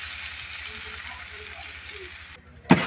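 Spiced tempering sizzles loudly as it hits a pot of kadhi, a steady bright hiss that holds for over two seconds, briefly dips, then flares again with a sharp burst near the end.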